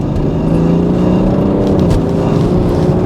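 BMW 330d F31 Touring diesel in sport mode, the engine roaring loud and close as the car accelerates hard, with rising harmonic tones over a continuous low rumble.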